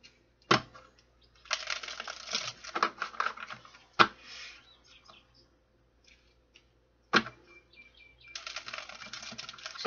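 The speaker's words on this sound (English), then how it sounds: "One more shuffle." Retro oracle cards being shuffled by hand, giving bursts of crisp papery riffling and flicking with sharp card snaps in between, close and fairly quiet, with short pauses and no talking.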